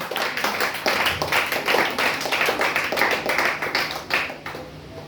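A church congregation claps together to acclaim Jesus: fast, steady, crowded handclaps that keep going loud and close, then thin out slightly near the end.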